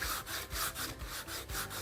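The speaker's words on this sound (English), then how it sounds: "It's an excellent sanding block for sanding large flat areas using either one of the surfaces." A sanding block rubs back and forth over a large flat wooden surface, with a steady rhythmic scraping of about three to four strokes per second, close and alone.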